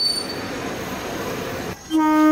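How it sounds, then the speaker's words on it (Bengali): A steady rumbling train drone fills the clip, then a loud tonal horn or brake squeal rises sharply near the end as the train pulls into a quiet station. "যেটা শুনছিস সেটা ট্রেন আসার শব্দ"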